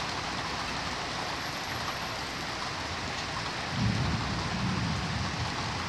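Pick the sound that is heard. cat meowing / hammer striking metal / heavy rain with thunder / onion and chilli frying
heavy rain with thunder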